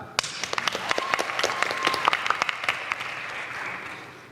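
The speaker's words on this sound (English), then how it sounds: "Give them a clap." Moderate applause from the audience at a church Bible quiz competition, a burst of clapping by a modest crowd that swells and then thins out, with a faint murmur beneath it.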